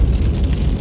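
A rainstorm pours on a moving vehicle driving in the Kimberley, a loud dense roar of water drumming on the body mixed with low road and engine rumble, brief and with no voices.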